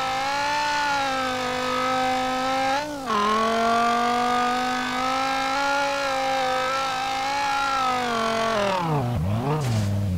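A virtual V10 from Street Legal Racing Redline drones loudly and steadily at high revs, with one clean gear shift early on and the engine note falling off and surging back near the end.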